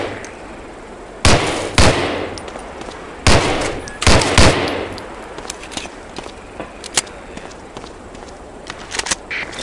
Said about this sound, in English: Try a couple of shots on that target with your 45.